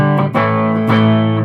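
Electric guitar with original humbucker pickups played through a Marshall Guv'nor Mk1 distortion pedal, two loud, thick, sustained distorted chords ringing out with rich overtones and no voice.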